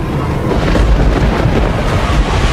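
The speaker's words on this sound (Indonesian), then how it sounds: "Hujan badai dan petir tiba-tiba saja datang." Thunderstorm effect with heavy rain and deep thunder rumbling, a loud, dense and continuous roar of low booms under a constant downpour.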